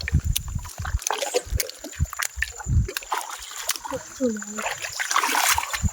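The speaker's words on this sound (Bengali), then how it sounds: "ওই আবার জাল মারলো ওখানে" A fishing net is cast into a small canal while prawn fishing, giving several close splashes and sloshing water, with people talking over the scene.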